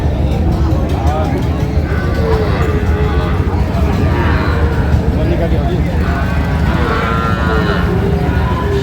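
Sahiwal bull calves moo at a busy cattle market in Madaripur, with several drawn-out calls rising above a constant crowd babble and nearby talking.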